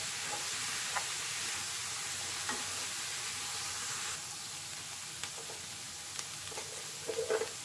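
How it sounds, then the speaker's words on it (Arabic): Onion and peppers frying in a pan, a dense continuous sizzle close by that eases slightly partway through, with a few soft clicks of utensils near the end. "هنا بعد ما درت البصله والفلفله كيطيبوا"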